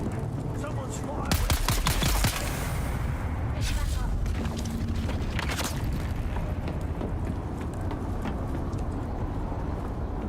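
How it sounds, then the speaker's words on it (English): Gunfire in Dune: Awakening comes in several loud cracking bursts, clustered early and again midway, over a rumbling ambient background with a voice talking now and then. "Someone's firing."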